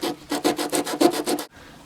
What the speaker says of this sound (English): And I'm going to have to sand it off.